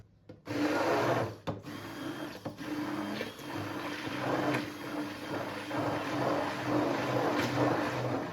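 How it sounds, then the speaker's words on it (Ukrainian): A blender mixing a mixture with sour cream to a smooth cream runs steadily with a loud, dense whirring hum, starting abruptly and continuing with slight fluctuations. "все це знову поєднуємо блендером до однорідності"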